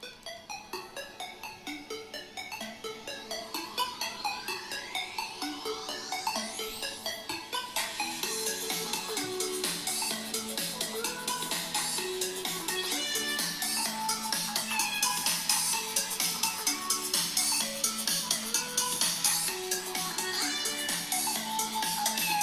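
Tones played through the speakers of a Google Pixel 4 phone as a bright melodic ringtone, a steady run of chiming notes that grows fuller and louder partway through and then carries on evenly, with no talking.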